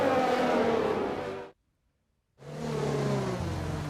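McLaren and Alfa Romeo race cars battle side by side at the Belgian Grand Prix in racing game footage, engines roaring loudly before cutting to brief silence and resuming with rising acceleration.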